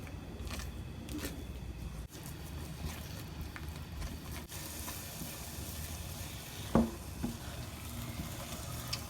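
Semolina halwa cooks in milk over a low flame with a soft, steady simmering sizzle, broken by light scraping stirs and one brief louder clatter, close and without speech.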